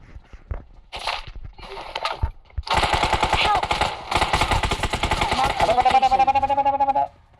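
Rapid automatic gunfire in a video game, loud, sustained bursts and single shots with short gaps, later overlapped by a tonal electronic sound, while players shout in the background.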